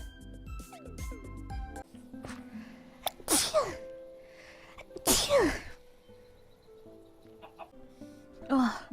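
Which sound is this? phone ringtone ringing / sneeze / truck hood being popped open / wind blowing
sneeze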